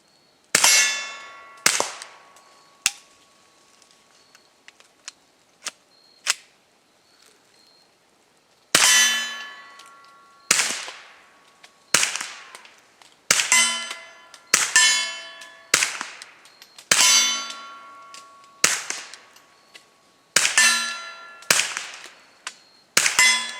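A KelTec CP33 pistol fires about a dozen sharp, loud shots outdoors, spaced one to two seconds apart in two bursts, each crack ringing with a metallic clang and decaying tail.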